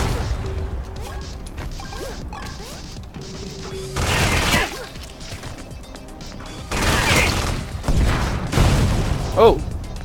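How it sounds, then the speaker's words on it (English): Explosions set off by TNT in the platform video game Rad Rodgers burst out in several heavy crashing blasts, one near four seconds and two more later on, over busy game sounds while a voice talks throughout. "Oh, all the explosions."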